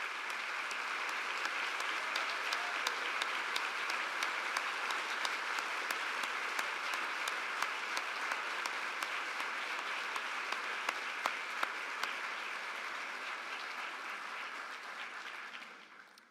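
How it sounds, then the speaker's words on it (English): Sustained applause from an audience at an evening closing presentation, a dense, steady wash of clapping lasting about sixteen seconds before tapering off at the end, with no talking over it. "please stand up and let us thank you with our applause."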